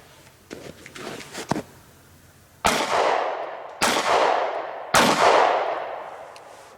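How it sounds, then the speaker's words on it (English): Three loud 9mm pistol shots a little over a second apart, fired outdoors into a car door backed by particle board, each with a sharp crack and a long ringing decay, after some quieter handling noises. "Let's wail on it with some pistols. Here's the 9mm."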